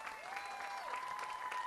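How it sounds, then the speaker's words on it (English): Applause from a seated crowd honoring parents, spouses and candidates at a Pepper Fest coronation, steady clapping of moderate loudness filling the whole stretch, with no talking over it. "Let's give them a big round of applause."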